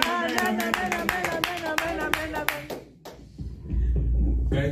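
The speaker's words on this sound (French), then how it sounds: "On acclame encore très fort pour le Seigneur Jésus." A church congregation applauds loudly during a worship service, with rhythmic clapping near and steady before it thins out and gives way to a low rumble and background noise.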